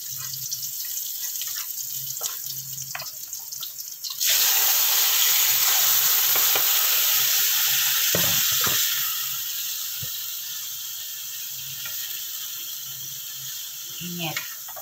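Chicken pieces for adobo dropped into a hot frying pan, setting off a loud, sudden hiss that holds for several seconds and then settles into a steady softer sizzle, with clatters of the pan in between.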